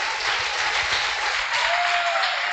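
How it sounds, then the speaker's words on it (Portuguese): Church congregation clapping together in applause, a dense steady wash of many hands filling the room without a break, no talking over it. "Vamos aplaudir o nome do Senhor."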